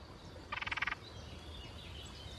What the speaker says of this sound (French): il y a une petite grenouille qui fait du bruit